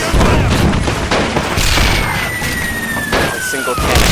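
Cannon fire and explosions fill a staged battle demonstration, a dense, loud roar of booms and blasts with a long descending whistle cutting through, continuous and close.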